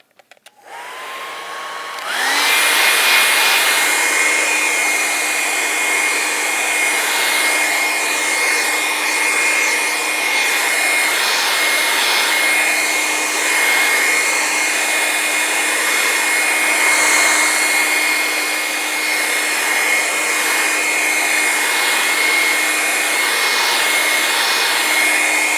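A hair dryer runs steadily for about twenty-three seconds, blowing on wet paint on a painting, with a loud constant whine and rushing air after a brief quiet start.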